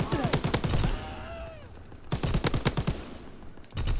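Gunfire in a video game battle, with rapid bursts of shots in two clusters separated by a quieter gap, loud and close, and a further burst at the very end.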